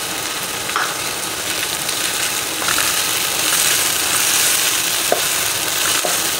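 Ginger garlic paste and crushed green chilies frying in hot oil, a loud, steady close sizzle with a few light scrapes of a spoon stirring through it.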